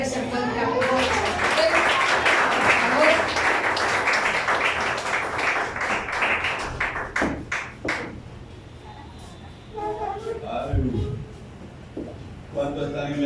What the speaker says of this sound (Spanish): Dele el fuerte aplauso.